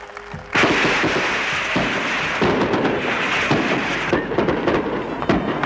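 Fireworks at a 1939 Spanish victory celebration, a dense, continuous barrage of loud bangs and crackling bursts from start to finish.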